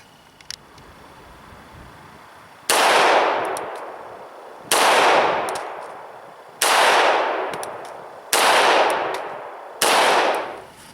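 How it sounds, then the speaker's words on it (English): Five loud pistol shots from an FNX-45 Tactical, fired at a target 5 yards away. Each sharp report trails off into a long echoing decay, and the shots are spaced roughly one and a half to two seconds apart. "we'll shoot at that from 5 yards and see how we do."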